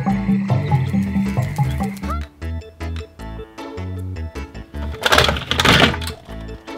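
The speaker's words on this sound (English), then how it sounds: "Green frog." Toy green frog croaking with electronic sound effects, a musical toy jingle with tonal notes and a bright crackling burst near the end, loud and alone.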